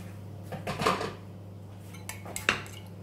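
Tomato paste being stirred with hot water into a sauce for Turkish stuffed aubergine, with a spoon clinking and scraping against the dish in a few close, light knocks over a quiet kitchen hum.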